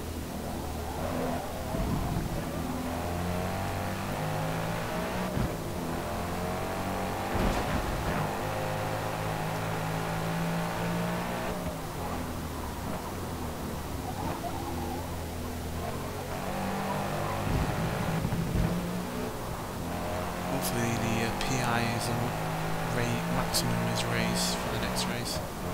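A car engine revving after an engine upgrade in Forza Motorsport, a continuous strained drone that climbs and falls through gear changes and stays under a person talking throughout.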